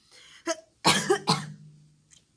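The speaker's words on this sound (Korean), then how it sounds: "이건 기침이 왜 나지?" Several sharp coughs close to the microphone, a short burst of two or three harsh hacks after a brief throat sound, then quiet.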